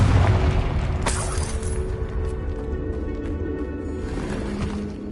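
A Confringo spell blast explodes in Hogwarts Legacy with a loud boom at the start, then a long rumbling tail with debris crackle fading over several seconds.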